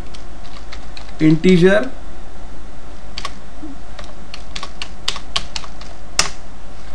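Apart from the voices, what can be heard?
typing on a computer keyboard, pressing Enter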